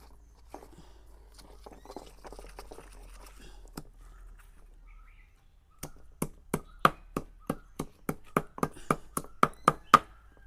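Ingredients pounded in a home kitchen to lightly crush them, first quiet rustling and one sharp knock, then a steady run of about a dozen crisp, evenly spaced thuds that grow louder, close by and with no talk over them.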